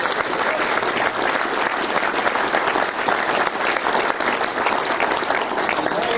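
Sustained applause from a conference audience at the George Wilson Oration, a dense, even roar of many hands clapping at once that carries at full strength for several seconds with no pauses.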